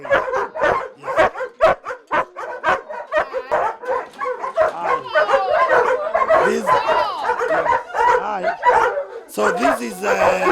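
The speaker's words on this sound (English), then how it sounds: "These are our remaining litter of puppies for the German shepherds." Seven-month-old German shepherd puppies at a kennel bark, yip and whimper in a busy, overlapping chorus. The noise is loud and close and runs continuously throughout.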